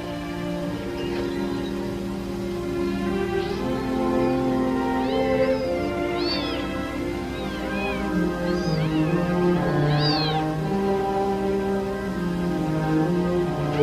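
Hungry kittens meow repeatedly, several small voices calling in thin overlapping cries throughout, fairly close, over a steady background of music.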